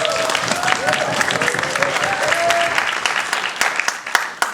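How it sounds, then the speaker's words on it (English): An audience at a middle-school debate competition grand final breaks into lively applause, many hands clapping together, tapering off into a few sharp, isolated claps near the end. "please give a round of applause to our grand finalists"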